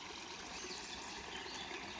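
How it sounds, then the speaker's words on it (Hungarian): A forest stream on a hiking trail in the Bakony hills babbles and trickles steadily, a faint continuous gurgle with no voices. "Csobog."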